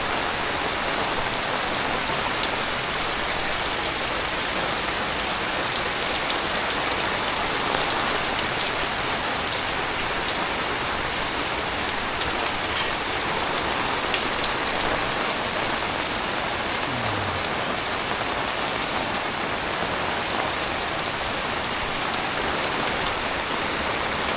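Heavy rain pours steadily on a village in a continuous dense hiss that stays loud and even throughout, with no voices.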